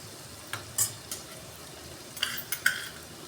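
Paneer sukka stirring and frying in a pan, soft crackling sizzle broken by a few sharp scrapes and clinks of a spoon against the pan, close and fairly quiet.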